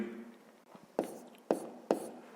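A pen scratches on paper while a fifth-grade math exercise is written out, a few soft strokes followed by three distinct taps or marks spaced about half a second apart, close and quiet.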